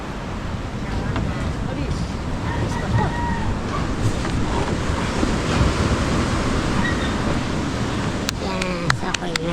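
Water washes up to a hut on the shore in a continuous broadband rush of surf, mixed with wind buffeting the microphone and faint voices in the background.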